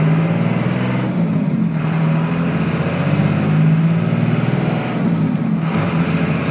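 A 2001 Cummins diesel pickup with a six-speed transmission pulls away in second gear, its low engine drone steady and close, rising slightly in pitch without speech.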